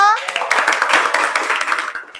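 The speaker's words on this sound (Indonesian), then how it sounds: "tepuk tangan dulu untuk kita semua" Classroom of children clapping hands together in a brief burst during a primary-school numeracy lesson, the quick claps running together under voices and chatter.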